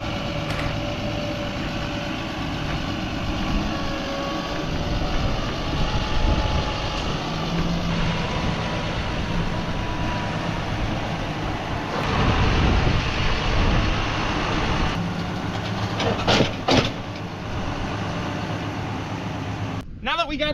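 Tractor in a field hauling a roughly 2,000-pound rock, its engine rumbling steadily throughout with a few louder surges and clanks near the end, while people talk over it.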